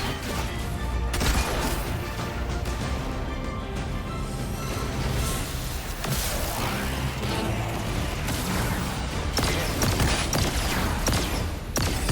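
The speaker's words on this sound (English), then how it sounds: "Don't mind me, I'm just destroying your pottery." Pottery being smashed in the video game Destiny 2, a dense, loud run of crashes and breaking clatter layered over constant game noise, with sharper smashes near the start and end.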